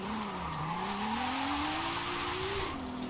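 A car slides sideways through a point drift in Forza Horizon 5 while being driven on a wheel. A sustained, wavering tire squeal rises and dips in pitch over a steady engine drone.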